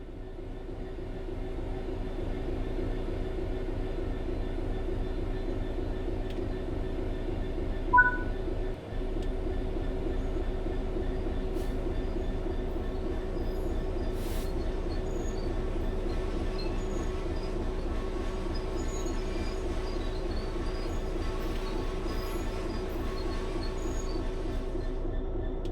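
A train rolls along in Train Sim World 3 with a continuous, even low rumble and mechanical hum throughout, with a brief metallic clunk near the middle and faint squealing tones above.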